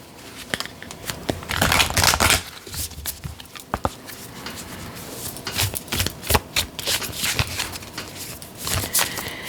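Oracle cards shuffled in the hands, with repeated crisp riffling bursts and soft slaps that come close and fairly loud, broken by a few short pauses and no talking.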